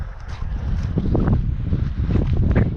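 Strong, cold gusts of wind buffeting the microphone outdoors while walking, a loud, rumbling roar that rises and falls without a break.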